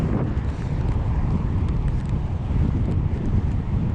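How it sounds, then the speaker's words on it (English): Strong wind buffeting the microphone while riding a fixed-gear bike in San Francisco, a constant low rumbling roar with no other sounds standing out. "Still really windy today."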